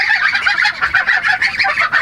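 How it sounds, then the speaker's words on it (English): Geese honking, joined by other farmyard fowl, in a dense, continuous chorus of nasal calls that overlap and pulse without pause, fairly loud and close. "Look how big the ducks and the geese are getting."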